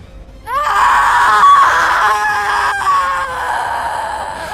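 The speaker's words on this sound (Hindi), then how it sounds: "छलावा ने चीख मारी" A long, loud, wavering shriek meant as the scream of a chhalava, a shape-shifting village ghost, begins abruptly and holds for several seconds with a warbling, wailing quality before tapering slightly.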